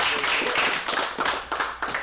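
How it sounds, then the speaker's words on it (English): An audience claps in a short burst of applause at a talk event, steady hand claps close by with no voices over them. "Let's give Manny a round of applause"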